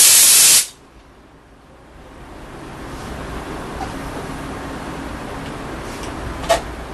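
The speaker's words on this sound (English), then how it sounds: "He's gonna probably use the steam machine." A jewelry steam cleaning machine gives a loud, sharp hissing blast for under a second, followed by a low steady background rush and a brief faint click near the end.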